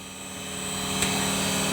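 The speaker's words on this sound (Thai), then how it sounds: "เครื่องปั่นไฟอีกเครื่องหนึ่งเนาะ เครื่องปั่นไฟ 2 เครื่องนะครับ" Generator engine on a luxury yacht sits in standby mode, running as a steady, loud mechanical drone with constant tonal hum, close by and without voices.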